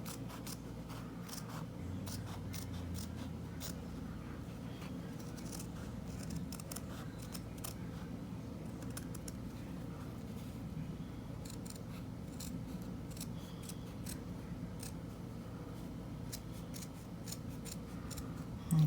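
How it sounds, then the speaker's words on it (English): Scissors snip steadily through paper, cutting out a traced circle for a DIY pop-up craft, with a continuous run of close, crisp blade closes and soft rustling lasting throughout, no talking. "we're going to cut out our circle"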